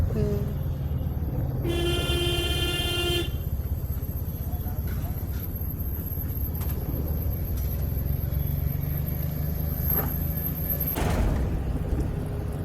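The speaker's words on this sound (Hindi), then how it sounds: "मैं तो हर 2 मिनट में हॉर्न बजा देती हूँ।" A car horn sounds in a sustained blast of a second or so amid steady traffic and engine rumble during a driving lesson, with another brief honk later.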